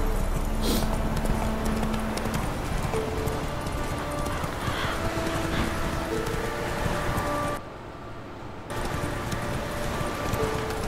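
Roach the horse galloping in The Witcher 3, with steady rhythmic hoofbeats and faint rain-like patter under game ambience and a brief drop in the background noise.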